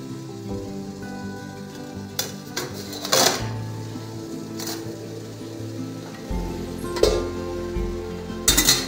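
A pan is set down on the stove with a few metallic clanks and knocks, close by, over a low background hum.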